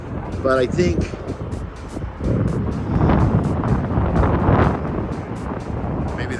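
Strong wind gusts of up to 40 mph buffet a pickup truck towing an RV, making a steady, loud roar of wind and road noise that swells in waves, with a brief spoken phrase over it.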